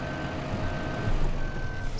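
In Farming Simulator 2015, a farm vehicle backing up a dolly trailer sounds a steady series of reversing beeps over a low rumbling diesel engine, close and continuous.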